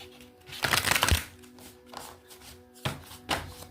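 Two quick riffle shuffles of a card deck, each a crisp flurry of flicking cards, separated by a pause and followed by a light tap.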